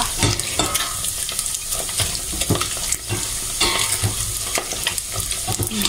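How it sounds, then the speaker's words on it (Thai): Steady, crackling sizzle of squid frying in hot oil in a tall pot, loud and close, with scattered pops and bursts throughout and no voices. "ทอดปลาหมึกกันนะคะ"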